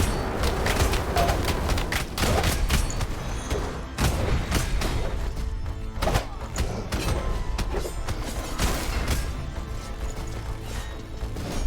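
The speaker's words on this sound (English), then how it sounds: "Meant to shoot that out, not down." Rapid gunfire and explosive impacts from the video game Rogue Legacy 2 form a dense, continuous barrage of cracks and booms, loud throughout.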